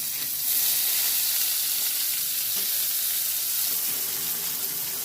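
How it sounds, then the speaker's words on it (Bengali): Whole cumin, dried red chillies, garam masala, bay leaves and chopped onion fry in hot oil with a loud, continuous sizzle that flares up as they hit the pan, with no talk. "গোটা জিরে শুকনো লঙ্কা গরম মশলা তেজপাতা এগুলো আমি ফোড়ন দিয়ে দেব দিয়ে দেবো পেঁয়াজ কুচি"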